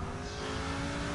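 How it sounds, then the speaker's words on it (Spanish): Car engine in the video game H1Z1 droning steadily and loudly at a constant pitch, a dense, continuous roar with no pauses over its short length. "Dejar ese coche que hace mucho ruido."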